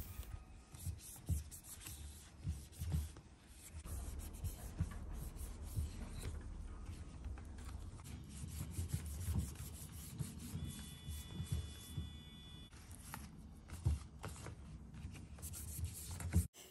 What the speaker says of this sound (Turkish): bu hazırladığım karışım ile silerek yapraklarında olabilecek her türlü hastalık ve böcekleri kovmak ve engellemek için böyle bir karışım ile siliyorum